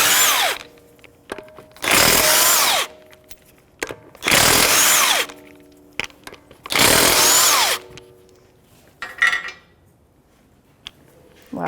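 Power tool spinning 17 mm lug nuts off the front wheel of a 2015-2024 Jeep Renegade: several loud, sustained bursts of whirring and rattling, each lasting about a second, separated by short quiet gaps, with no talk.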